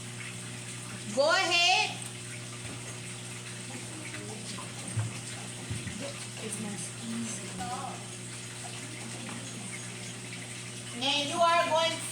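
Hot and cold water run together from a tap in a steady, moderate gush that lasts the whole stretch, with a child and an adult talking over it.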